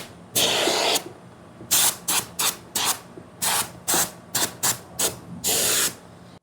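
A compressor-fed sprayer blasts foaming cleaning product inside a car trunk in a series of loud, close hissing bursts. Some bursts are long and some short, with brief gaps between them.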